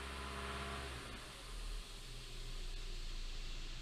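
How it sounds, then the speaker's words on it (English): A 2017 Hyundai Elantra engine, recently repaired after timing system work and throwing timing codes, is held at raised RPM, a steady close mechanical drone with a brief dip partway through. "I'm raising the RPM now. Get some noise."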